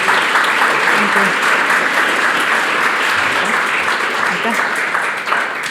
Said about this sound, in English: let's give a big thank you and round of applause to Merlin, Liis, and Anneli